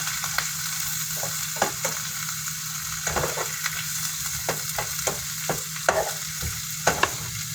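Beans cooking in a pan in a home kitchen, a constant sizzle broken by regular clicks and scrapes of stirring, close up with no voices.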